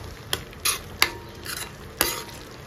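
Masala paste being roasted in oil in a pan over a low flame for a pigeon pea pod curry, a soft steady sizzle broken by a few sharp scraping stirs of a spatula against the pan.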